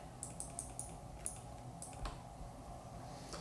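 Soft keypresses entering numbers into a golf putting calculator, a short run of quiet, evenly spaced taps followed by a couple more, faint and close over a low room hum with no talking.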